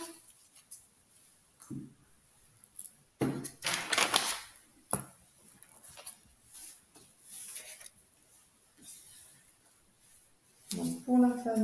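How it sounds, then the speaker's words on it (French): Tarot cards (a Rider deck) being shuffled and dealt by hand: scattered papery flicks and snaps, with a denser riffling burst in the middle, moderately close and mostly on their own. "On va faire également la même distribution de cartes avec le tarot"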